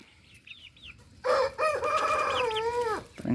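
Chickens and chicks on a country rooster farm are fed. A few soft, high calls come first, then a loud, close, drawn-out rooster crow with a second call overlapping near the end.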